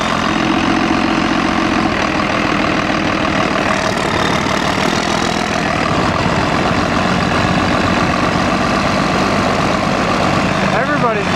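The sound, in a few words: Cummins Banshee sandrail buggy engine running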